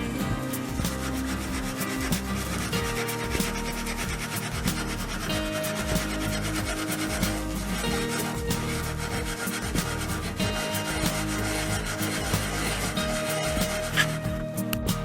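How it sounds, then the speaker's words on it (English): Steel wool SOS pad scrubbed against a clogged faucet aerator to clear hard water deposits, a continuous close rubbing and rasping scrape that runs steadily with no pauses. "So I'll show you how to declog it with an SOS pad."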